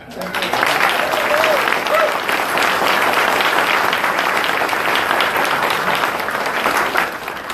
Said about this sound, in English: could you give her a round of applause for her work as a legislator as well